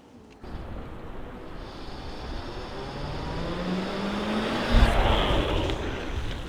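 A 400-horsepower RAM Rebel GT pickup launches from a start line on a timed run. Its engine roar builds steadily as it pulls away and peaks in a loud surge near the end.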